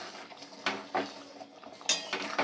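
A metal lid is lifted and handled on a pot of simmering paneer curry, producing a few short clinks and clatters, close and moderately quiet, with no talk.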